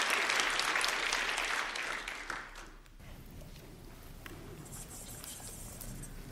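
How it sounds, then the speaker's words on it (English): An audience at a community conversation on gun violence applauds loudly at first, then the clapping thins into scattered, fainter claps and room murmur, with no talking. "Come on, let's clap our hands."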